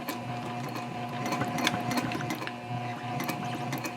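A sewing machine runs steadily, stitching across the top edge of a fabric tote handbag, its close, even mechanical whir continuing without pause and with no voices.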